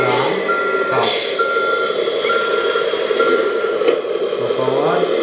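A Kabolite K3362 4x4 toy dumper truck plays loud, steady reversing beeps over a continuous synthetic engine drone, with tones shifting throughout.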